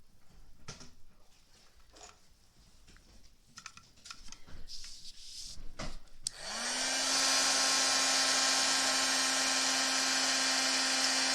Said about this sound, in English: I'll grab my tool here to heat and emboss